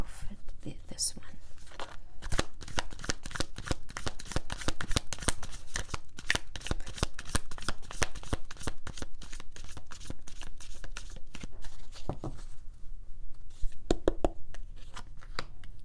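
A Chakra Tarot deck being shuffled, a steady run of crisp riffling card flicks and soft slaps close to the microphone, continuing without pause and with no voices.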